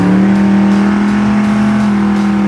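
A built 1971 Chevelle muscle car with roughly 900 horsepower at the wheels holds a loud, deep, steady engine drone close by, its low throb pulsing slightly throughout.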